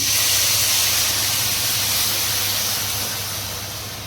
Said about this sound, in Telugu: కొంచెం నెయ్యిలో వేగించిన తర్వాత 1 గ్లాసు వాటర్ పోసుకుందాం.